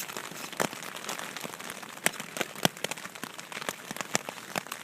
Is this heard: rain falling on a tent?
yes